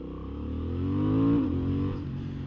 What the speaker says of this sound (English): this bike is just so nice to ride in town